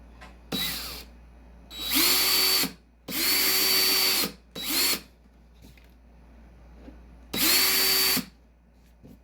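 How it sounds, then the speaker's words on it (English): A power drill bores holes through a skateboard deck to mount a wheelbase extender, whirring up in four or five loud bursts of a second or so each, separated by quiet pauses. "Now I'm going to drill straight down and through."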